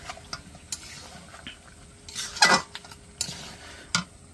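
Mutton stir-frying in a pot over a wood-fired stove in a village kitchen, with irregular scraping and stirring clatter and bursts of sizzling, fairly close and without talk.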